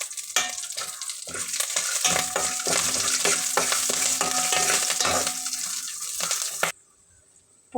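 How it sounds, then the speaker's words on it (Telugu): Tempering spices, garlic, dried red chillies and curry leaves sizzle loudly in hot oil while being stirred, a dense continuous crackle with scraping clinks, stopping abruptly near the end. "పోపు వేగిపోయిందండి"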